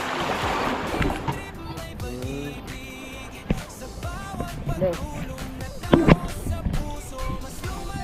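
An outboard boat motor drones steadily throughout, with water sloshing, thumps, and occasional distant voices over the motor.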